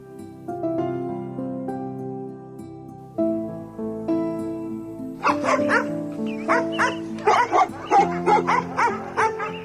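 Sheepdogs bark and yip excitedly in a fierce fight with a wolf, a rapid burst of loud, overlapping barks rising after a stretch of gentle music.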